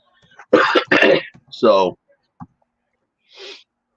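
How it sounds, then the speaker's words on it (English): A few harsh throat-clearing coughs from someone recovering from COVID, close by, in quick bursts, followed by a short faint breath. "And excuse my coughing, people."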